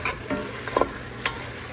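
Sausage simmering in a pot is stirred, with a steady bubbling sizzle and a few short scrapes of the spoon against the pot, close by and with no talking.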